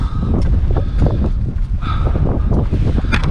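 Strong wind buffets the microphone atop a castle keep's lookout tower above Bamberg, a loud steady rush with gusty swells throughout and no speech.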